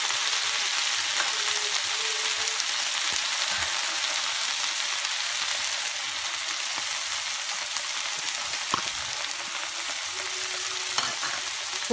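Coriander sizzles and fries in a pan while being stirred for pudhina thokku, giving a steady, close, hissing crackle with occasional soft scrapes and clinks from the stirring, no talking.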